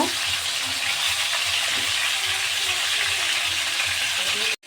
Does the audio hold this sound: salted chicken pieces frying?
yes